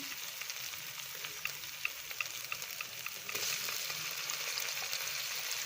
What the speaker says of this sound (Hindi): अब इसमें टमाटर ऐड करेंगे